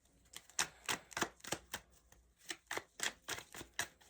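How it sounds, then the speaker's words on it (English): Tarot cards are pulled and shuffled in quick, crisp flicks and riffles, a rapid irregular run of soft snaps close by at low volume, with no talk. "I'm going to pull more cards"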